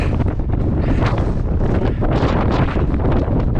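Strong wind buffets the microphone on the summit of Pico Viejo volcano on Tenerife, a loud, continuous roaring rush with gusting swells and no voices.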